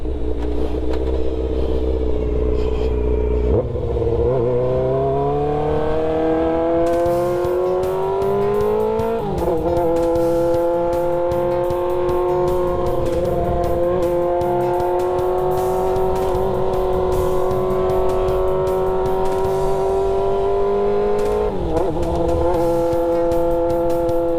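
A motorbike engine runs loudly and close by, with a continuous throaty drone and several rev rises along the way, and no talking over it.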